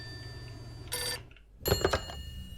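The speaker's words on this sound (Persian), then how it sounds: "تلفن چرا زنگ میزنه این وسط حالا؟" A telephone rings in the Max Payne video game, two bright electronic ring bursts separated by a short pause, loud and close over a low background hum.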